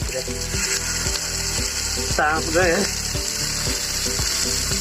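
Ginger garlic paste and non-veg meat masala sizzle and fry steadily in hot oil in a clay pot, with a spoon stirring and scraping in a regular rhythm. The frying is close and continuous, and a faint voice passes briefly in the middle.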